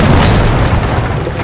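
A big explosion goes off in Jagged Alliance 3, a loud, dense blast that rumbles heavily and stays roaring for the whole second and a half with no voices.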